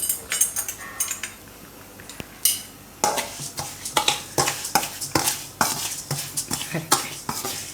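Garlic raita being mixed in a bowl: a spoon scrapes and clinks against the bowl in quick, uneven strokes, close and fairly loud, with short gaps between bursts and no talking.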